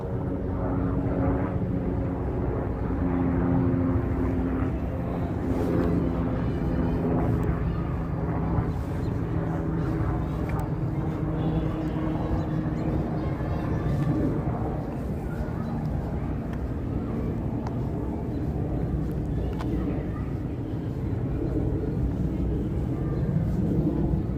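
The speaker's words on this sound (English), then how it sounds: "Oh, now it's no longer quiet. It's helicopters time." A steady, droning roar of helicopters overhead in Central Park, New York City, fills the air continuously, loud and unbroken, with faint outdoor bustle beneath it.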